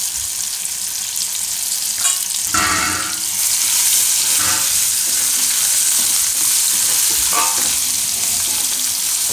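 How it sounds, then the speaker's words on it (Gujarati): Banana and cashew curry frying in a pan on low gas, a steady close sizzle throughout with several bursts of spoon-stirring scrapes, no voices. "ગેસ ધીમો રાખીને વચ્ચે વચ્ચે હલાવતા રહેવું"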